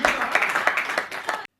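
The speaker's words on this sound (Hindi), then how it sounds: "जोरदार तालियां बजाकर उन्हें" Audience at a Hindi comedy poetry gathering bursts into loud, dense applause, many hands clapping close together without a break for about a second and a half before it cuts off abruptly.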